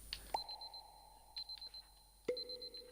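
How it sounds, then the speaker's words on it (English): Faint, quiet electronic beeping in short repeating bursts from an alarm in the video game Superliminal, with a couple of soft thuds and tones in between. "I can hear an alarm."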